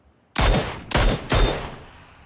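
Three sharp, loud Mini 14 rifle shots in quick succession in the game PUBG Battlegrounds, each with a short echoing tail, with no talking.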